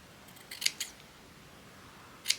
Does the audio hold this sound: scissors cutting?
yes